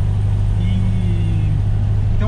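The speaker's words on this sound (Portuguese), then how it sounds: "o Fusca é um carro barulhento, né? Todo mundo sabe, esse aqui com as mudanças do escape também" A Volkswagen Beetle with a modified exhaust drones loudly and steadily from inside the car, a deep constant engine note heard under a voice.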